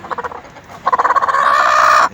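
A Denizli hen near her chicks clucks loudly at close range, starting with quick separate pulses that run together into a sustained, throaty call at the end.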